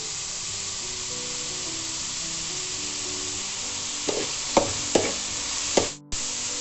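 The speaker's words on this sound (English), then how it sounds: "We have to continuously stir until the vegetables are soft." Carrots and beans frying and being stirred in a pan for egg fried rice: a steady hissing sizzle with several scraping stir strokes near the end, close and moderately loud with no talk.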